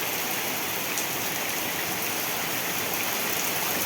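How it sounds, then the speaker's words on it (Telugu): Heavy rain pours steadily onto a rooftop terrace and down a flight of stairs at a house on the edge of a village beside fields. The hiss is dense and continuous at close range. "బాగా వర్షం ఎక్కువ కురిసేస్తుంది చూడండి మా డాబా పైన చూడండి పైనుంచి వర్షం ఎలా కుర్తుంది"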